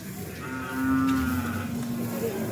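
Buffalo calves at the Kollannur cattle market give one long, loud moo, drawn out over a second with a slight tail, against faint market background.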